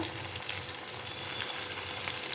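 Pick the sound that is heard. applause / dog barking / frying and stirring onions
frying and stirring onions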